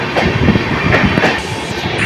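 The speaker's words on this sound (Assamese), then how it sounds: "বৰদৰা টু অযোধ্যা ধাম এইখন যায় গুচি গ'ল" The Vadodara to Ayodhya Dham train passes through a railway station in Gujarat, producing a loud, continuous close-up rumble with rhythmic wheel clatter throughout.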